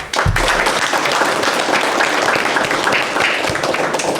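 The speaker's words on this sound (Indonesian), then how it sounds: "Kita kasih aplaus." Audience applause at a live political talk show in Indonesia, a dense, loud wash of clapping that fills the whole stretch steadily, with a few stronger low thumps near the start.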